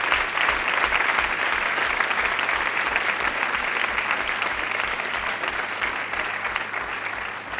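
Sustained, dense audience applause fills the hall at a Landtag von Baden-Württemberg democracy event, steady and loud from start to finish with no voices rising above it.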